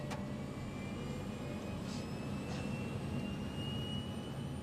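An airliner's jet engines roar steadily during its takeoff run on the runway, a constant broad whine and rumble with no talk.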